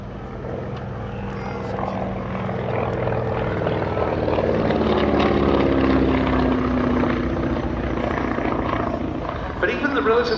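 Beechcraft Staggerwing biplane with a radial engine flying past at an airshow, a loud steady propeller drone that swells toward the middle and eases off near the end.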